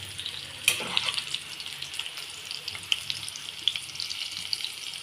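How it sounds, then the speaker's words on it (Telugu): Stuffed bitter gourds fry in oil on a medium flame, giving a steady close sizzle with scattered pops and crackles. "మీడియం ఫ్లేమ్లో పెట్టి వేయించుకోవాలండి."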